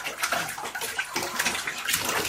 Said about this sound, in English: Splash, Alexander, splash.